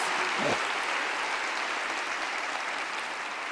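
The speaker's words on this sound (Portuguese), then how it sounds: "Podemos aplaudi-lo por isto?" Congregation applauding during a Portuguese-language church service, a steady, dense wash of clapping sustained throughout, with a brief voice near the start.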